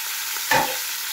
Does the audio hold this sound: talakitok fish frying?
yes